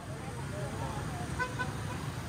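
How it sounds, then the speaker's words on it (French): Chaotic street traffic in Saigon, mostly motorbikes and cyclos, with short horn toots sounding over a steady roadway rumble and a voice talking in the background. "La circulation chaotique de Saigon est surtout dominée par les deux roues"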